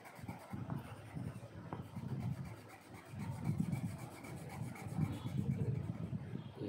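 Brown colored pencil shading on paper for a teddy bear drawing, a soft continuous rubbing and scratching with steady back-and-forth strokes, close and quiet, with no talk.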